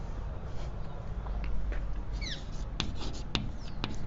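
Pen or chalk scratching and rubbing steadily while optics notes are written, with a few sharper taps and strokes later, close against a constant low background hum.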